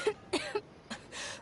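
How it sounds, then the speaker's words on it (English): A Genshin Impact character coughs in a few short, rough bursts spaced across a second and a half, close and fairly quiet, with nothing else around them. "Cough, cough."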